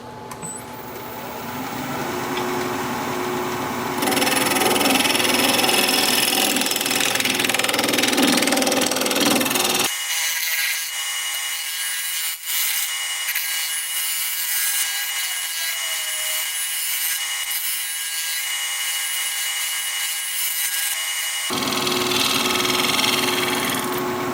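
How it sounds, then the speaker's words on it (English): Scraper blending the surface of a cracked wood piece spinning on a lathe, a continuous loud scraping hiss over the lathe motor's hum, shifting in tone midway, with no talk. "I'm just going to use my scraper, kind of blend this all together."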